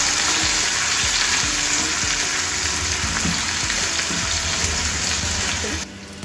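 Finely chopped onions frying in a pan, a steady loud sizzle with occasional stirring scrapes, continuous throughout before dropping slightly at the end.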